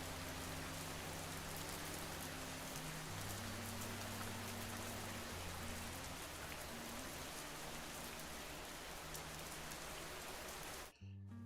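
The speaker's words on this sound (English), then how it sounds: "And it's raining again." Steady, heavy rain in the video game Schedule I hisses loudly and continuously, with low sustained tones humming underneath, then it cuts off abruptly near the end.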